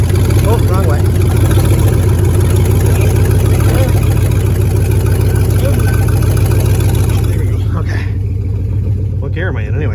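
A GMC truck with a 4.8 V8 engine runs loud and close, a deep rumbling idle and rev with a heavy low throb, then eases toward the end as people talk nearby.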